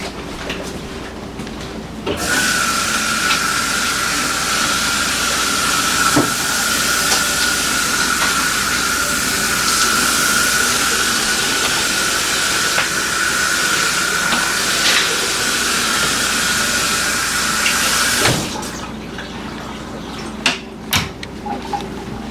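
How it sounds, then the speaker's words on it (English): A tap runs steadily for about sixteen seconds as hands are washed with soap under it, a broad even hiss of water that starts and stops abruptly, with a few small clunks afterward and no talking. "I'm gonna go wash my hands again with soap and water,"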